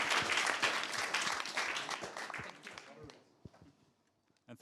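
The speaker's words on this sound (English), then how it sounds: "Please join me applauding our 4 panelists for this extraordinary panel." Audience applause for four panelists at the close of a digital humanism conference session, loud and dense at first, then thinning to scattered claps and fading out after about three seconds.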